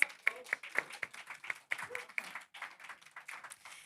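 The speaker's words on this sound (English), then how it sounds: "let's give him a real applause" Scattered, fairly faint clapping from a small audience at a holiday party fundraiser, greeting an executive editor, with a few distinct claps and some voices mixed in.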